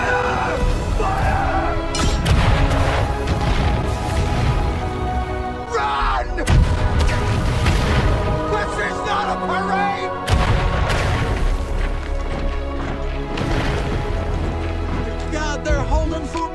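Artillery cannon fire in the Napoleonic-era strategy game Napoleon Total War, a dense barrage of booming blasts and crashes with music and shouted voices over it, loud and continuous with brief lulls near six and ten seconds.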